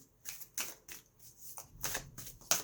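A Soul Cards 2 oracle deck being shuffled by hand, several quick papery riffles and slaps in irregular bursts, close and fairly quiet, with no talking.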